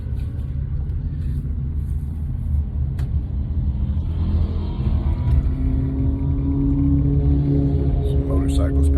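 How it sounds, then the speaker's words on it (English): Motor vehicle rumble in slow traffic, engines passing nearby with a low steady drone that swells toward the end, close and fairly loud. "Some motorcycles passing."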